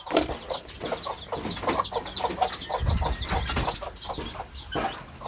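Two mother hens cluck in a busy, repeated rhythm close by, with a few louder squawks mixed in and no talking.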